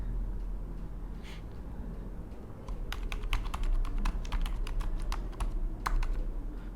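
Keys clatter on a computer keyboard as PHP script code is entered, quieter at first, then a quick, dense burst of crisp nearby keystrokes in the second half, with no talking.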